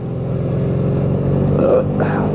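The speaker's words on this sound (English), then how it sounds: "I don't know why I had to burp." A man burps audibly near the end of the clip, close and brief, over the steady idle rumble of a 1988 Honda VF750C Super Magna motorcycle engine.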